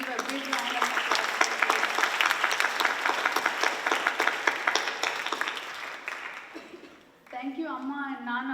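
An audience applauds a Kuchipudi dance performance, with dense, sustained clapping for about seven seconds before it fades and a speaker's voice takes over.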